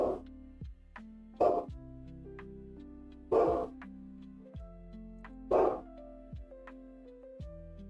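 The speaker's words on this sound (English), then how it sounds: "So he's barking now, but I think he's barking at the chlorine thing in the pool" A dog barks in four loud, separate bursts spread across the recording, with a steady tonal hum underneath; the barking is aimed at the chlorine device in a backyard pool.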